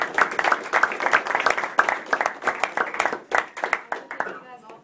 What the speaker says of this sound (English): So if you would join me in a round of applause for these three